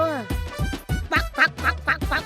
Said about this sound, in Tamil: வாத்து பொம்மை.